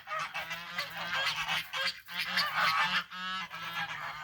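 A group of newly adopted geese honking in a loud, overlapping racket, with repeated harsh calls close to the microphone and no talk.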